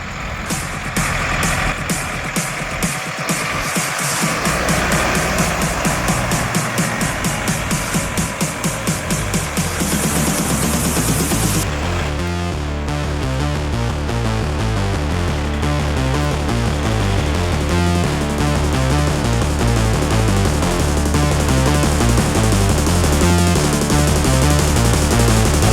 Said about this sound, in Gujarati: આપણે ટ્રેક્ટર આવી ગયા છે કુબાટો અને મહિન્દ્રા.